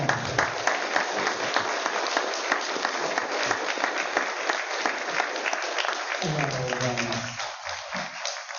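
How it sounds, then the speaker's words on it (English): An audience at a Buddhist temple Hanamatsuri celebration in Los Angeles gives the ministers a sustained round of applause, dense clapping for several seconds, then a speaking voice enters as it fades. "let's have a big round of applause for everyone"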